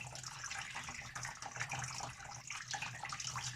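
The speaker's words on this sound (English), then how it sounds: "So I'll pour the rest of the water inside." Water pours steadily through a bucket into a container, a continuous splashing gush that stays at an even level throughout.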